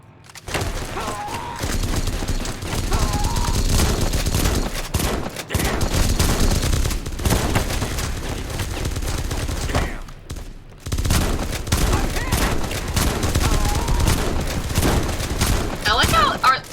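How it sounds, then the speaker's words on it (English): Laser Tommy guns firing in the video game Fallout: New Vegas, sustained loud rapid bursts of gunfire with short pauses, while people talk over the shooting. "They are shooting lasers. Like laser Tommy guns."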